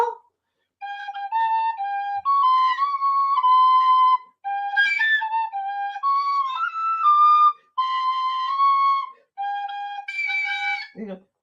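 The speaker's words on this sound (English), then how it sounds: "My Irish whistle." Notes on an Irish whistle, a clear, breathy melody in several separate phrases with short gaps between them, played alone and close up.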